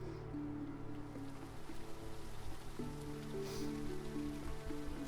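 Steady rain falls in a building and survival video game, a dense, even patter that holds throughout with low tonal game music underneath.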